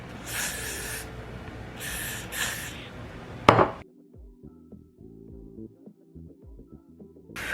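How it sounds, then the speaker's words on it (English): Two short hisses from an aerosol can of Got To Be hair spray close by, used to mold down a wig, followed by a sharp click and quieter handling sounds. "We're gonna use Got To Be spray to mold this down."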